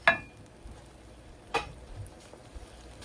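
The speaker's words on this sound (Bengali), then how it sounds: "এই যে দিয়ে দিলাম ভেজে রাখা আলু" Fried potatoes tumble into a pan of egg curry with a soft clatter, followed by a few scraping stirs over a faint low sizzle; quiet and close, with no one talking.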